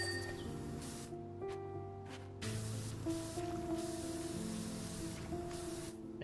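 Pressure washer jet from the game Powerwash Simulator 2, using the base nozzle on the ground: a soft hissing spray in bursts that stop and restart, with faint musical tones beneath, no talking.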